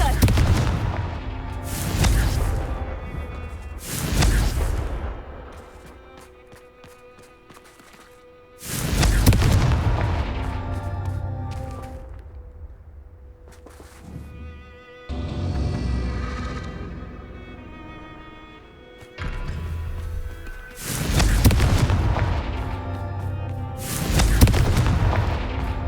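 Confringo blasting spells in Hogwarts Legacy, a series of loud booming explosions, some in quick pairs, each followed by a rumbling decay, with ringing magical tones and quieter gaps between blasts.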